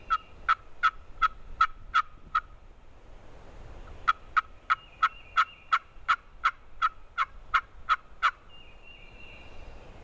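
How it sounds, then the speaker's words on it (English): Wild turkey gobbling outdoors, a burst of about seven sharp gobbles followed by a pause and a longer run of around a dozen more, clear and fairly close against a quiet background. "You hear one? Oh, yeah. No, that one's gobbled like 4 times."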